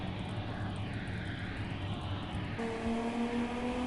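Turbocharged 2J inline-six car in the CarX driving game drones at a steady pitch, then shifts to a cleaner, higher sustained engine note partway through; a close, continuous engine sound without talking.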